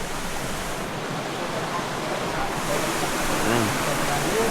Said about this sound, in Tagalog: Tuloy-tuloy ang pagragasan ng tubig niyan. Ayan po yung Talahib Falls.